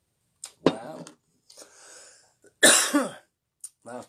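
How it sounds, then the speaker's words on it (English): A person who recently quit smoking coughs several times in short separate bursts, close and fairly loud, along with throat clearing and quieter breathy sounds in the gaps. "I've got a bit of a cough since I've quit smoking"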